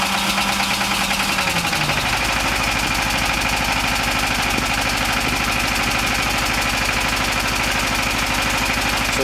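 An S1100 diesel generator with a glow plug, set on an allotment in Brent, fires up and settles into a loud, steady, throbbing idle that continues without a break.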